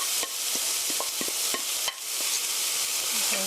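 Onions stir-frying in a pan for japchae, a steady broadband sizzle with scattered light scraping and clicking taps from stirring, close up and fairly quiet, with no talking.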